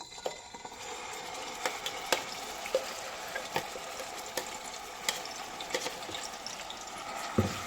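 Ground masala paste frying in hot oil for an Andhra-style chicken curry, giving a steady close crackle and hiss with scattered sharp pops and spoon-stirring scrapes throughout, and no talking.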